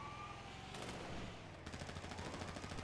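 Rapid automatic gunfire in a video game about hunting killer clowns, a dense rattling stream of shots that turns more clearly pulsed near the end, moderately quiet, no talk.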